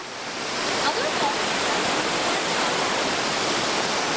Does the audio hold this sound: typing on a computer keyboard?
no